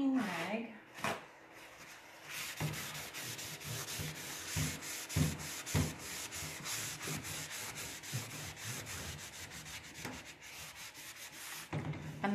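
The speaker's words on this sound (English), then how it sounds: "And I'm going to take a clean rag." A clean rag rubbed over a painted wooden dresser door comes through as a steady, close scuffing swish running the whole time, with a few sharper knocks along the way.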